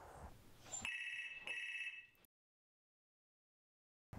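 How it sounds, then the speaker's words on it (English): Two bursts of an electronic telephone ring, loud and close, followed by silence and then a brief return of the ringing. "alert a deaf person to the sound of the telephone"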